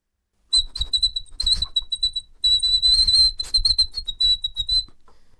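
A person whistles through the nose in a thin, high, wavering tone, broken into short bursts with a brief pause in the middle, heard close and alone against silence.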